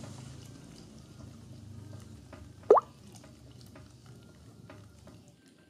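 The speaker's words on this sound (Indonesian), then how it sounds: "Masak sambil diaduk terus hingga mengental" A thickening mixture is stirred in a pot on the stove with soft, quiet scraping and gentle bubbling, broken once midway by a single sharp clink of the utensil against the pot.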